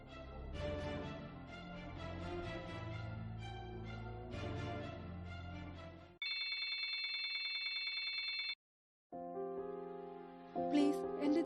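After a stretch of music, a telephone rings in shrill, repeated electronic bursts, then rings again after a brief silence. The scene comes from a Malayalam short film, and no one speaks.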